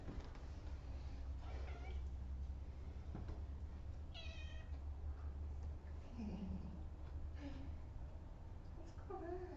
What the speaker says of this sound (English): And there's Barry the cat